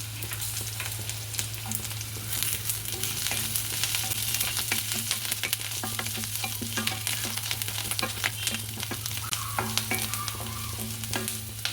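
Green chillies and curry leaves fry in hot oil with a steady crackling sizzle and frequent small pops. A low hum runs beneath, and the sound stays close with nobody talking.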